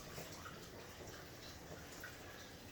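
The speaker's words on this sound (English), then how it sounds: "I'm gonna pour the beer from the chicken now" Beer being poured off a chicken steamed in it, a steady, faint wash of liquid running and splashing in a Jamaican home kitchen.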